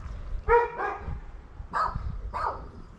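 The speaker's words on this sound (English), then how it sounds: "My neighbor's dog just realized I'm outside." A dog barks three or four times at a moderate distance, with short gaps between the barks, against quiet background noise.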